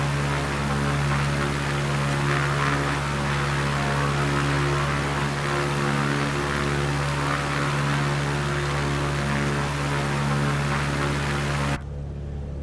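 Steady, loud drone of an Ercoupe's propeller engine in Microsoft Flight Simulator 2020, a constant buzzing hum with a harsh hiss, continuous and close until it cuts off abruptly near the end.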